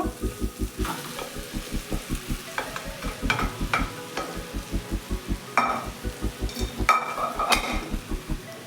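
Cooked rice for Karnataka-style tomato chitranna is stirred in a pan on a low flame, with a quick, even run of scraping strokes under a soft, steady sizzle and occasional sharper clicks of the spoon on the pan.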